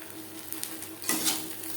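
Fried onions being stirred into a taro leaf paste in a cooking pan, a soft scraping stir with light sizzling that swells briefly midway, close and moderate in level, no voices.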